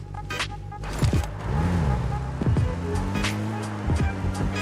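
A vehicle driven in PUBG Mobile: a steady engine rumble runs throughout, with pitch sweeps as it revs and shifts and brief sharp clatters on top, no talk.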